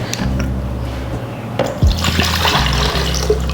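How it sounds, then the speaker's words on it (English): Orange juice is poured into a mixture and splashes and trickles loudly into it, with a brief clunk partway through, over a low steady hum. "Orange juice goes in."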